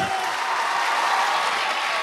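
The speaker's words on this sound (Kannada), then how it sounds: "ಎಲ್ಲ ಮ್ಯೂಸಿಷಿಯನ್ಸ್ಗೊಮ್ಮೆ ಬರಲಿ ಜೋರಾಗಿ ಚಪ್ಪಾಳೆ." A concert crowd at Creative PU College in Karkala claps loudly for the musicians, a dense, continuous burst of applause close to the listener with no voices standing out.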